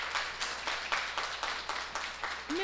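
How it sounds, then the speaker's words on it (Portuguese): Scattered applause rises from a church congregation during a sermon, quiet and somewhat distant, with a few distinct clap bursts recurring at a loose pulse over the whole stretch. "Uma salva de palmas para ela, por favor"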